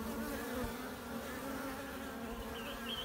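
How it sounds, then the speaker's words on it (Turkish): Steady, dense buzzing of many drone honeybees close by, a continuous low drone with no pauses and no voices. "Şurada erkek arılar var."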